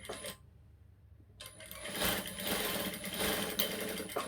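A sewing machine stitches a blouse back together, running in a steady mechanical whir that starts after a short near-silent pause and carries on strongly to the end.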